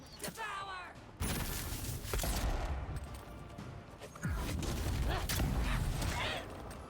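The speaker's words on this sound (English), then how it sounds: "I load my gun and I pull the trigger" Gunfire in the fantasy video game Avowed, dense rapid bursts of shots and crashing impacts filling a loud, busy mix, alongside a voice and other battle noises.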